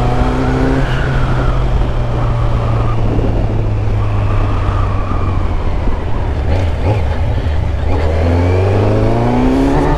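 A Kawasaki Z900 motorcycle with a 4-into-1 stainless steel exhaust header roars and revs up and down up close, its pitch rising and falling continuously.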